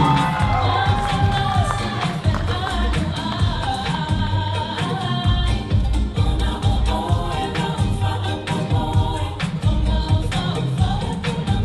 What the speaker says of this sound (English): Oh, what a round of applause, ladies and gentlemen, for the Leilani team of Taualuga Productions.